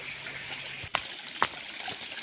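Continuous gentle rush of flowing water, moderately close, broken by a couple of brief splashy knocks.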